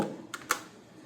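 Two quick, light keystrokes tap on a computer keyboard against a quiet room background, spaced a fraction of a second apart.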